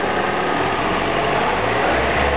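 A Toyota Prius engine runs steadily with a loud, constant hum and no pauses or voices, in a car whose engine control unit is being hacked.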